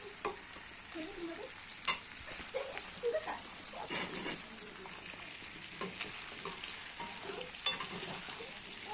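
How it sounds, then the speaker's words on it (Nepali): Chicken feet sizzle and crackle in a hot pan as they are fried and stirred, with a steady hiss and a few sharp scrape and spatula clicks, and no one speaking. "मैले चाहिँ आज यो कुखुराको खुट्टा ल्याएर यसरी बनाएर भुट्दैछु"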